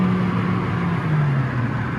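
A 2015 Hyundai Elantra GL sedan with a 1.8L engine holds a steady, close engine drone as it downshifts through the gears, the low hum shifting slightly in pitch over two seconds.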